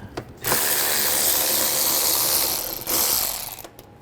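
Rapid clicking of a ratchet wrench with an 8mm socket backing out screws near the mass air flow sensor of a 2009 BMW 535i xDrive 3.0L inline-six; steady, close ratcheting strokes with a brief pause midway.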